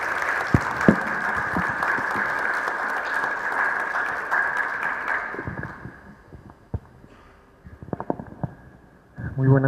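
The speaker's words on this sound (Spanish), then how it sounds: "Recibamos con un fuerte aplauso" Applause from a lecture-hall audience welcoming a speaker, dense and steady for about six seconds, then thinning into scattered claps and fading, with movement noise at the end.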